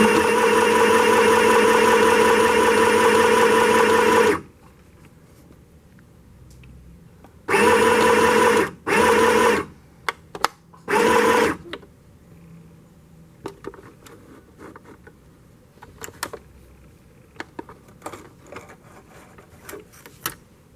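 A sewing machine stitches a shirt in one steady run of about four seconds, then three short bursts follow, with quiet handling noises between them.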